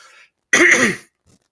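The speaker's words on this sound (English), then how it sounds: "Just clearing my throat." A single throat clearing, close and fairly loud, lasting about half a second, with near silence around it.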